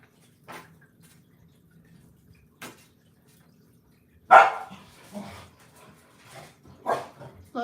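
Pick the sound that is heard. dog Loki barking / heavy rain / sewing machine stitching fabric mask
dog Loki barking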